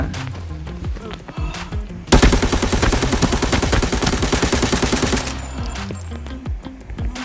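Sustained automatic fire from an M143 gun in the shooter game Arena Breakout, a dense rapid burst of about three seconds that follows scattered shots and is followed by quieter clatter and game sounds.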